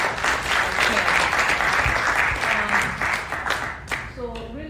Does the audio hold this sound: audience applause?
yes